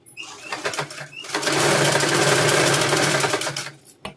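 A sewing machine stitches a princess-cut blouse, starting with a few short taps and then running in a loud, continuous whirring burst that stops abruptly with a final click.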